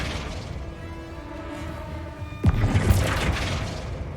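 The Flipendo spell is cast in Hogwarts Legacy as a sudden booming impact with a sharp whoosh and crashing debris, following a quieter stretch of ambient game hum.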